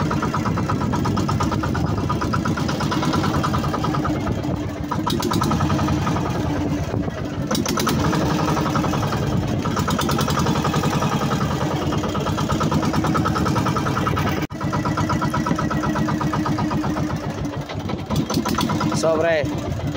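A motor idles in a steady, even mechanical drone that runs throughout, with voices talking over it during a fishing outing for crabs and fish.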